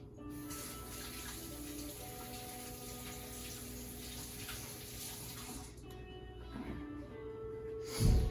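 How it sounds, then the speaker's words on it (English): A kitchen tap runs in a steady, continuous stream while hands are washed, close and fairly loud, with a brief clatter and splash near the end; no speech. "When I wash my hands,"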